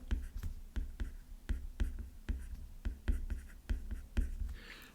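A pen writing along a dotted line in a vocabulary workbook, a close, quiet run of short scratchy strokes in an irregular rhythm, with faint rustling between them and no voice.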